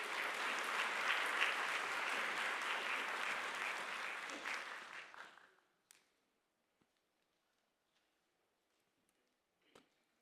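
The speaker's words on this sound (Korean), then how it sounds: "나오실 때 큰 박수로 환영해 주시기 바랍니다" A church congregation at a Sunday worship service applauds steadily for several seconds in a warm, full burst that fades out, leaving near silence with a few faint taps.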